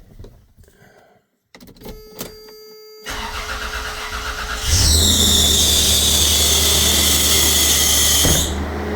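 A Toyota T100 with newly replaced injectors, after a misfire repair, cranks with some clicks and whirring and then catches, settling into a loud, steady idle that runs close and continuous until it cuts off near the end.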